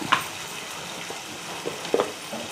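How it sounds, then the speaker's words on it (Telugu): Turmeric and spices frying in a pan for a Kurnool-style country chicken curry, a soft continuous sizzle with a couple of faint clinks of a spoon stirring. "పసుపు ఒక స్పూన్ పచ్చివాసన పోయిన దాకా వేయించుకున్నాము"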